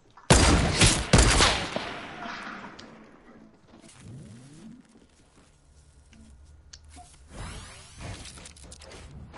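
Gunfire in Fortnite opens with a sharp, loud cluster of close shots, then fades to scattered quieter pops and another burst near the end.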